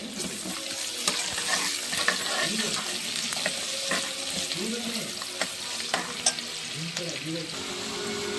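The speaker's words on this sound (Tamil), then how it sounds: "இப்போ பாருங்க, வெங்காயம் ஃப்ரை ஆயிடுச்சு." Onions fry in a pan for a biryani, with a steady close sizzle and occasional stirring clicks and scrapes throughout.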